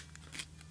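Scissors are drawn through a small Fiskars sharpener, giving a brief close scraping rasp over a quiet low hum.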